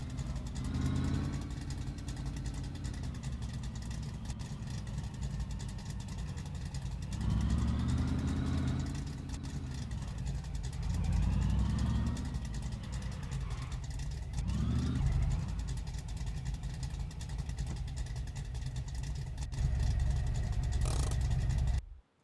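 A junkyard shop truck engine idles steadily at close range, broken by three or four short throttle blips that swell and fall back to a loud, even rumble.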